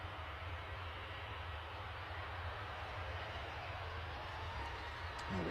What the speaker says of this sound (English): I think we'll see the Ryanair go out in a second